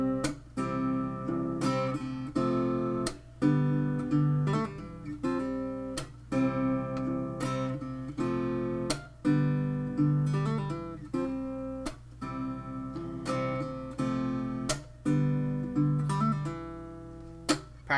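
Acoustic guitar playing verse chords, including a D5, with steady picked and strummed chords in a repeating rhythm, close and fairly quiet, no voices.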